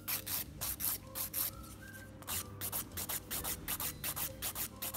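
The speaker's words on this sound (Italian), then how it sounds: "Quindi vado, limo bene" A hand nail file works over an acrylic nail refill in quick repeated back-and-forth strokes, a rhythmic raspy scratching that is close and fairly quiet, with no speech.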